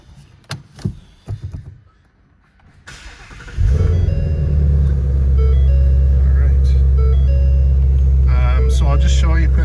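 A 2016 Ford Mustang GT350 in Competition Orange fires up after some door and cabin clatter and a moment of quiet. The starter catches into a loud, close, deep rumbling idle that holds steady.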